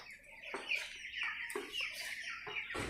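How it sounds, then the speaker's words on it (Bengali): Chickens cluck at a market shop that sells cock, local and broiler chickens. Faint, repeated clucks and squawks come in quick bursts throughout. "কক মুরগি আছে, বাংলা মুরগি আছে, ব্রয়লার মুরগি আছে"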